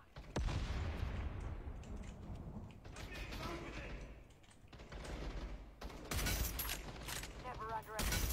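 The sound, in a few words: gunfire in the video game Battle Teams 2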